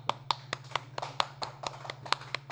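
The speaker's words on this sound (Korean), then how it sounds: "어유 민철씨 박수" A few people clap in a small classroom during a lesson, roughly a dozen irregular sharp claps over a steady low hum, close and fairly quiet.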